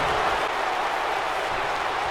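A wrestling arena crowd in WWE 2K19 roars steadily, a dense, loud wash of cheering and clapping that holds without a break.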